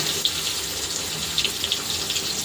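Tap water runs steadily into a kitchen sink while dishes are washed, a soft continuous splash with a few faint clinks and drips, heard close and alone.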